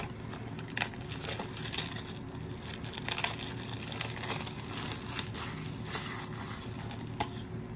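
A knife cuts open the Elden Ring Nightreign collector's edition packaging, making close, quiet crinkling and scratchy tearing of cardboard and plastic in irregular short strokes.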